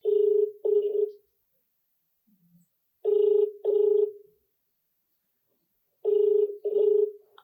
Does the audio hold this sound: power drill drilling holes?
no